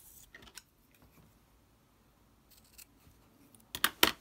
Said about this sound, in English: I'm going to use some wool felt fabric and just using my paper template, just cut out two ears.